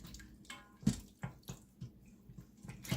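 Thickening sauce is poured into an Instant Pot while cooking orange honey pork, giving a few soft, wet splashes and drips spaced irregularly, quiet and close.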